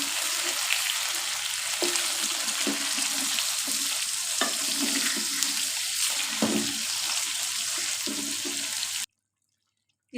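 Whole spices such as black peppercorns, cinnamon and cloves sizzle in hot oil with a continuous hiss and occasional stirring knocks, and the sound stops abruptly near the end.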